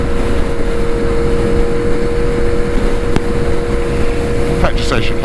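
A Yamaha MT-10 motorcycle with a broken exhaust, heard while riding: a loud, constant engine and exhaust roar mixed with wind rush over the microphone, with brief chirping noises near the end.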